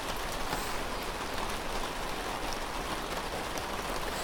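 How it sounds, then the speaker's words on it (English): Heavy rain pours steadily onto a garden roof, a dense, continuous hiss and patter with no pauses, close and fairly loud, with no voices. "Can you see that rain coming down there?"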